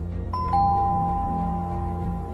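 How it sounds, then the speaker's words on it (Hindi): A two-tone doorbell rings once, a bright ding-dong standing out clearly against a low background hum, then fading with a lingering tone; no voices. "दरवाजे की घंटी बजी।"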